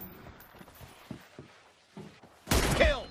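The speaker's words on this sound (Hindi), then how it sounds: "क्या शॉट थी भाई, क्या शॉट मारी भाई आपने" A single sharp M24 sniper rifle shot in a video game rings out loud with a short decaying tail, following a stretch of quiet rustling and light game sounds.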